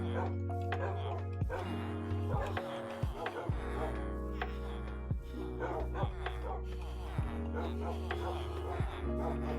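Dogs in the Minecraft video game bark and yip in short, scattered bursts over a steady electronic hum and clicking game sounds, with a person talking intermittently.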